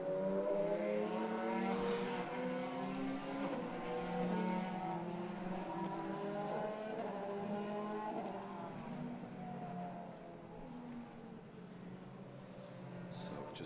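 Formula Boss Ireland single-seater race cars circulate at Mondello Park, a continuous engine drone with shifting harmonics that fades slightly, heard from a distance with no speech.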